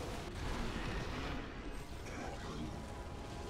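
A kaboomer blows up in a chaotic video game defense mission, a broad, rumbling blast that stays loud and dense, with no talk over it.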